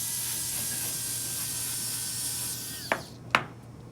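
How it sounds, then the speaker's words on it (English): A dental handpiece grinds a porcelain-fused-to-metal crown for a front tooth, a steady high whine running close and continuous before stopping, followed by two short sharp clicks at the end. "That's how you grind."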